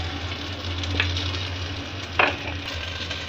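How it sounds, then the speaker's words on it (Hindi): Sliced potatoes with spices and kalonji being stirred in a hot oiled pan, a continuous low sizzle broken by a few distinct scraping strokes of the spoon, no talking. "अच्छे से इसको मिक्स करेंगे।"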